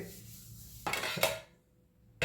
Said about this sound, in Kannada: ಈಗ ಪಾತ್ರೆಗಳನ್ನು ಸ್ವಚ್ಛ ಕ್ಲೀನ್ ಮಾಡ್ಕೋತೀನಿ ರೀ